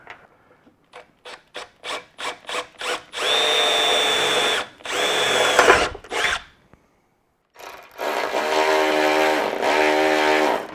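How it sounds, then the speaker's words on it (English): A power drill bores a hole through the front end body panel of a 1997 Firebird Formula, starting with short rapid bursts, then long loud whining runs with a brief pause between, close up. "So I just need to drill out a hole here for that."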